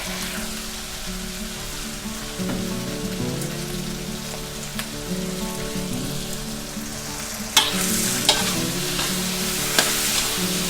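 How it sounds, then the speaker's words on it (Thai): Sausage stir-fried in a pan with chili paste, scallions and red chili, a steady close sizzle under frequent spatula scrapes, with a few sharper knocks toward the end. "ผัดให้เข้ากันค่ะ"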